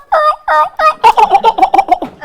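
A person's voice imitates a wild turkey gobble, a string of rapid, loud warbling bursts that speed up into a close, rattling series with no other talk.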